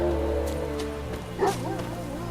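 A dog barks a few times in The Witcher 3, short yelps rising over a steady musical score, with a voice briefly present.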